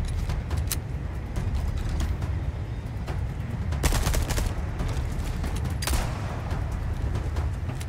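Gunfire in the video game Resident Evil 4 Remake, Separate Ways on Hardcore: a loud, steady barrage of shots with repeated sharp cracks and louder bursts, set over a constant rumbling background.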